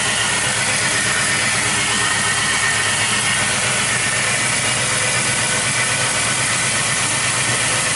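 A car engine idles steadily with its air intake sound absent, giving a continuous broadband rumble and hiss that holds even and close for the whole stretch, with no talking.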